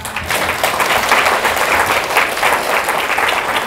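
A church congregation breaks into sustained applause during a sermon, dense steady clapping from many hands filling the room at an even level throughout.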